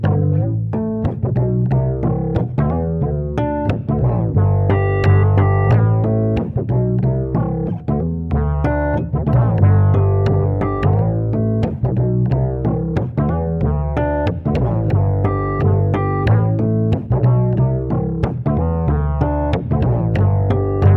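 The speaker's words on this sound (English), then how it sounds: "listen to how the harmonics and the low end still do have their distortion and clarity" A bass guitar plays through a Soundblox Pro Multiwave Bass Distortion pedal, giving a dense, gritty and continuous distorted tone with a strong low end and buzzing harmonics. It is loud and steady, with no talking.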